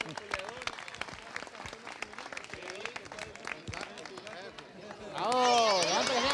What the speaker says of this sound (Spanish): eso merece el aplauso para los dos